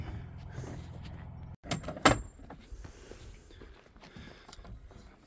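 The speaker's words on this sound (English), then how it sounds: "closing the door" A door on a farm building project swings and thuds shut partway through, followed by quieter rattling and shuffling movements nearby, with no talking.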